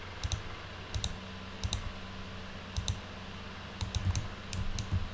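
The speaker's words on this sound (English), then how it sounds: "right click here, hit 1 on the keyboard, right click." Soft computer keyboard presses and mouse clicks come in small clusters of sharp taps, spaced irregularly over a quiet room hum, with no talk.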